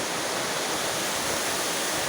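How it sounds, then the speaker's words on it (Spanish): Steady roar of a waterfall cascading down between rocks at Chorros de Milla zoological park in Mérida, a continuous broadband rush of falling water with no voices. "en medio de las rocas, de donde baja el cauce de la cascada"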